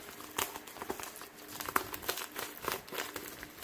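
A plastic film sticker is peeled by hand off a credit card during an unboxing, giving close, irregular crinkling and soft tearing crackles with scattered sharper snaps.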